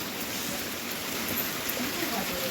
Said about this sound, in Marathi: बघा आता पाऊस पण चालू झाला